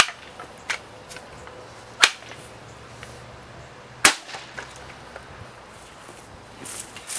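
Homemade pellet gun firing homemade bullets, two sharp close cracks a couple of seconds apart amid quiet handling clicks and faint rustles.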